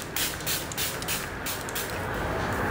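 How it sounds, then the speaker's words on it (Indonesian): Rose water spritzed from a spray bottle onto the face, a steady close hiss of fine mist with several quick pulses of spraying, heard alone without any talking. "saya menggunakan air mawar semprotin ke muka"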